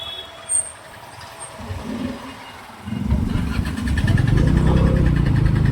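A motor vehicle engine runs on a night ride through town, first low and fairly quiet. It then surges into a loud, steady rumbling drone that carries on to the end.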